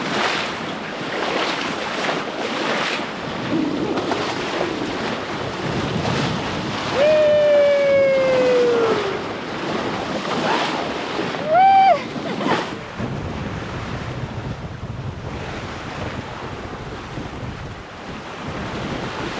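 Steady rushing wind and washing water aboard a Beneteau 423 sailboat in 8 to 10 knots of true wind, with a couple of brief whistling tones rising above the noise midway through.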